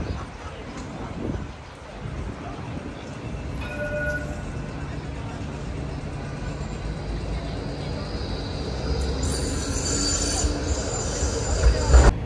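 A metro train at a station in Australia grinds and rumbles past with high squealing wheels on the rails, a steady mid-distance roar that builds toward the end, with people talking faintly nearby.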